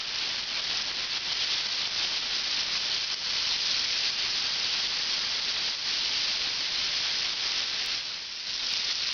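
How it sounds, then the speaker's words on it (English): Beef pieces frying in batches in very hot fat in a pan for a classic French beef bourguignon, a loud, steady, close sizzling hiss that runs unbroken with no talk. "frying the beef"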